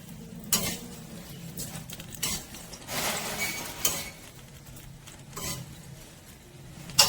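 A tempering of fenugreek seeds and curry leaves stirred in a pan for dahi vada: a soft sizzle with scraping and clinking of a spoon against the pan, a few louder knocks along the way.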